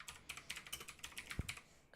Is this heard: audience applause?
no